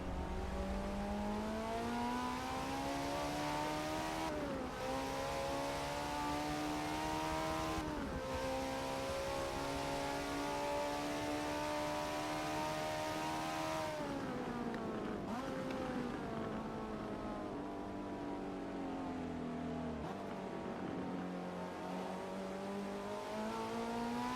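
Race car engine in Forza Motorsport 7 at Sebring International Raceway, a sustained loud drone whose pitch climbs steadily through several gear shifts as the car builds speed down a straightaway, with no talk.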